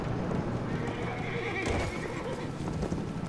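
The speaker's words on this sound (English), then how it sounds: "I heard the horse neigh, whinny or neigh or whatever you call it" A horse neighs in the video game Battlefield 1, a loud whinny standing out over continuous clip-clop hoofbeats and battlefield noise. Muffled voice sounds come and go in the background.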